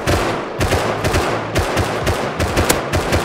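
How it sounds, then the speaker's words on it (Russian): Berdan rifle gunshots in the survival game Rust: a rapid series of loud, close shots, about ten sharp cracks in three seconds, with no talk over them. "Да, с берданки стреляю."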